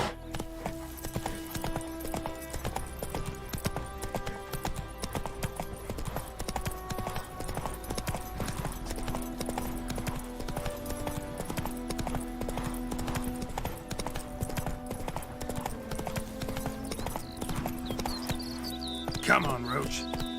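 Roach, a horse in The Witcher 3 on Xbox Series S, gallops with steady rapid clip-clop hoofbeats under game music, with a brief whinny near the end and someone talking over it.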